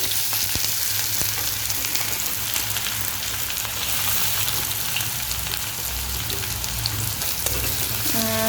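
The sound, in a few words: onions frying in oil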